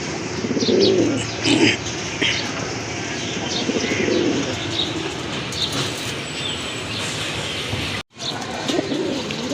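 Giribaz pigeons kept for sale in Rajshahi coo close by, soft throaty calls repeating in an uneven rhythm over steady background noise, with a brief drop-out near the end.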